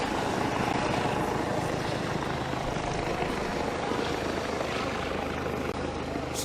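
A helicopter's steady rotor chop and engine whine fill the air continuously, fairly close and loud, with no voices.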